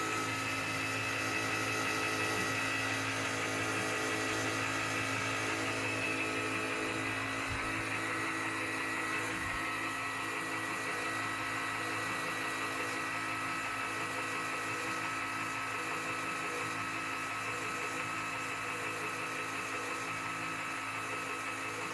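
Self-balancing CMG gyroscope, version 3, running at low RPM, giving a steady whirring hum with a constant tonal whine that holds evenly throughout, fairly quiet and with no voices.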